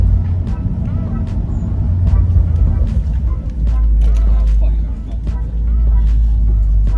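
BMW M135i fitted with a BMS intake, its engine giving a loud, steady low roar that dips briefly midway and swells again, heard from close by with a voice talking over it.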